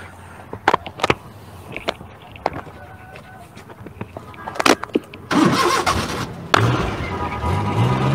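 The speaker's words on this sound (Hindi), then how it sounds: "गाड़ी को हम जो है इसको स्टार्ट कर देते हैं" A car on a night-time road by a graveyard is cranked and fires up, preceded by scattered clicks and knocks, then the engine catches with a loud burst and settles into a steady running rumble.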